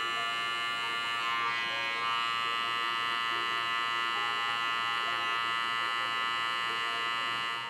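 An electric hair clipper buzzes steadily while cutting a men's fade, a close, constant motor hum with a bright harmonic whine and slight shifts as the blade works tight areas.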